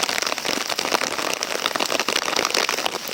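Steady, dense rain patters and hisses on a surface close by, constant and loud throughout with no voices.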